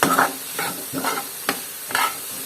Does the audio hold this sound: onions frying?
yes